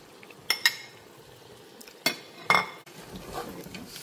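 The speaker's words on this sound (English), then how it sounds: "Stir it together." A spoon stirs shrimp and snail into a pot of seafood okra soup, giving a few separate metallic clinks and scrapes against the pot amid quiet background.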